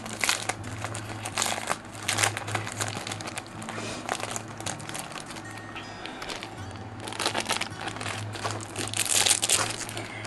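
Crinkly plastic packaging around a self-healing cutting mat being pulled and torn open, with loud continuous crackling and rustling close by, swelling in bursts over a faint background hum.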